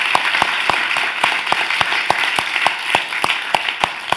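Audience applause at a Murray Edwards College talk welcoming Dr. Louise Newson, a dense, steady wash of clapping with regular sharper claps running through it, filling the room.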